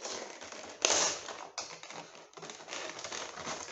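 Crinkly plastic packaging around a Kingdom Hearts Roxas figurine is pulled and unwrapped up close, a run of sharp rustles and taps with a few louder crackles.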